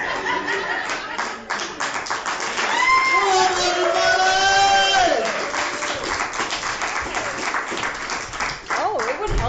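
Live podcast audience at a Chicago nerd comedy festival claps and cheers, a dense stretch of applause and whoops with a host's voice shouting over it, the crowd noise rising in the middle then tapering off.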